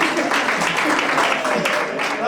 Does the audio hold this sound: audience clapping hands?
yes